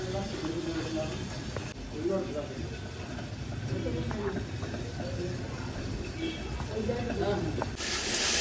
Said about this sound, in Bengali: এখনো আমি মশলা কষাচ্ছি